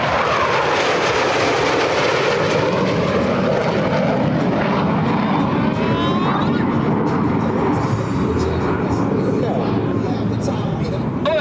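Two US Navy Blue Angels jets streak along the flight line at about 400 miles per hour during an air show at NAS Patuxent River, a loud, continuous roaring engine wash that swells and shifts as they pass, with announcer speech underneath.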